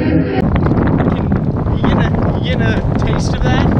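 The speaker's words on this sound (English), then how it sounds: "It is very windy." Strong wind at Curaçao buffets the microphone in loud gusty roars while people talk over it.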